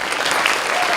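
Dense, even applause from an audience at a Christmas evening event fills a brief moment, close and steady with no pauses.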